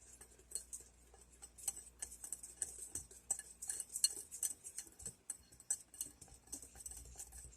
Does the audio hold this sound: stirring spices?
yes